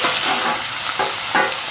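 Peppers sizzle in red wine vinegar on a Blackstone griddle, a steady close frying hiss with a few soft scraping stirs as they are pushed to the back.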